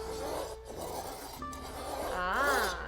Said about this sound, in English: And the tap wheel is that zipping sound you hear.